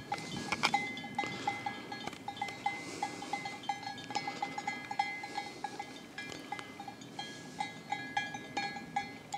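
Bells on a flock of sheep in the mountains clink and ring faintly but continuously, scattered across a wide, distant space, with no talking.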